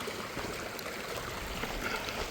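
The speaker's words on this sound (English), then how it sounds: "First watery creek crossing of the trip." Water flowing over a wet creek crossing along the Pacific Crest Trail: a steady, soft rushing and trickling stream that continues without a break, with no voices.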